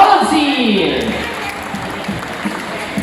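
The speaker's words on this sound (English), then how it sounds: "Let's give a applause for our volunteer." Audience applause for a volunteer at a bird show at Ocean Park Cebu. The clapping is loud at first and thins out quickly, and scattered crowd noise and voices carry on beneath it.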